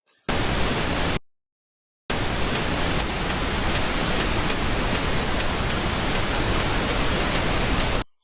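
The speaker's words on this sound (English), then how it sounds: "it cannot be too loud with pink noise." Loud, steady broadband pink noise playing in a music mix in Ableton Live, running continuously with a brief one-second gap of silence near the start before resuming until the end.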